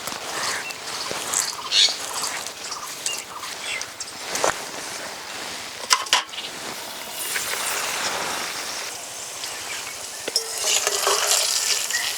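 Fish roe frying in a pan with water sprinkled over it, a steady crackling sizzle with brief scraping stirs and sharper spatters, swelling slightly louder near the end.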